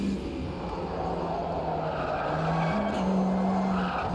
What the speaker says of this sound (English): These right-hand tyres are being tortured.